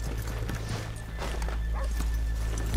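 Horses in Red Dead Redemption 2 clop along a town street, with steady hoofbeats and a faint whinny over a low background hum and no talk.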